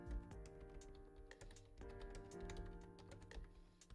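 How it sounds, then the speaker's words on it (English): Rapid typing on a computer keyboard, a steady run of close, quiet key clicks that continues throughout with no talking. "so that's why I'm typing"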